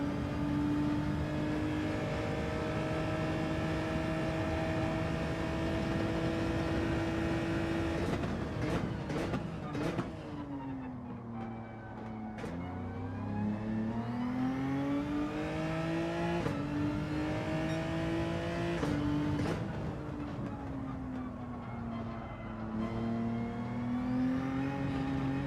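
A racing car in Gran Turismo 7 drones at steady high revs, then shifts and revs up and down through several gear changes in an unbroken, close engine roar with no voices.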